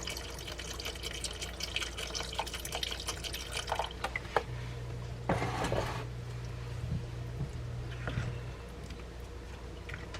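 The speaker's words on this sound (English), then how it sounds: "I'm just gonna pour enough chicken stock in here to cover my beans" Chicken stock pours into a pot of beans, a close trickling and splashing of liquid with scattered drips, swelling briefly in the middle before settling.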